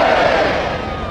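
A huge, dense crowd at the Dev Deepawali celebration on Assi Ghat in Varanasi, a loud continuous roar of many voices filling the space for about a second.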